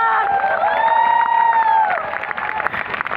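A crowd at the Jashn-e-Kashi event cheers a group achievement, with a loud sustained whoop or whistle-like shout over the noise, then sharp clapping picks up toward the end.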